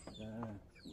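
A chicken gives a single drawn-out cluck from inside a coop, close and fairly clear, with a soft rustle around it.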